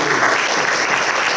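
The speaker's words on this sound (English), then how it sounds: "I want a big round of applause for all our readers today." An audience claps for the readers at an open poetry and fiction reading, a loud, steady burst of applause from a nearby crowd with no talk over it.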